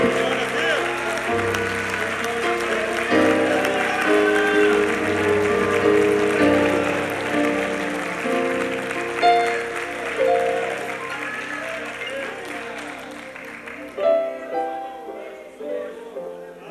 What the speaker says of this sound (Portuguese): Bata palmas a Ele